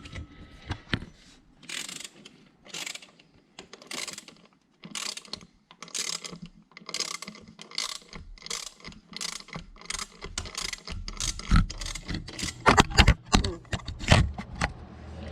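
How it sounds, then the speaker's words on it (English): Ratchet clicks in repeated bursts while a bolt is tightened on the right side, likely under a vehicle during power steering installation work; rhythmic and close, growing louder and busier toward the end. "Looks like it's lining up as I'm tightening this bolt."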